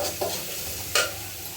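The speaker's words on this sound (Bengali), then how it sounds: "ভালোই ভাজা ভাজা হচ্ছে" Chira pulao (flattened-rice pulao) frying in a pan, with two short scraping stirs of a spoon against the pan over a steady low sizzle. There is no talk.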